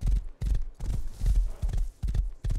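Horse hooves clip-clop in a steady walking rhythm in a survival video game, close and clear, with faint snorting between the hoofbeats.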